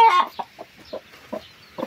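Hens clucking around a nest where chicks are hatching, a loud burst of clucks at the start followed by a steady series of short, separate clucks close to the microphone.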